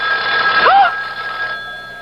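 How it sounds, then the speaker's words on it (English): An old-fashioned telephone bell rings in a radio mystery drama, a bright sustained trill that stops after about a second, leaving a steady tone behind. "It's the phone."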